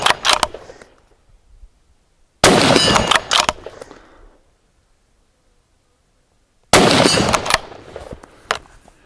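Three loud, sharp .308 rifle shots ring out, a few seconds apart, each followed by a brief echoing decay into silence.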